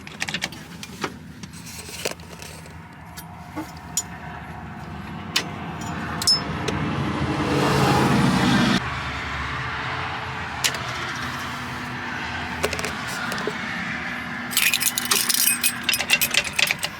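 An AMX with an EFI conversion and a Mustang five-speed cranks and catches with a surge of engine noise around six to nine seconds, then settles into a steady idle, with clicks and rattles throughout.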